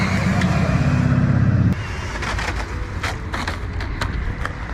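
An MHD Pro Stinger brushless RC on-road drift car makes a steady motor whine up close for under two seconds, then cuts out, leaving scattered clicks and light rattles.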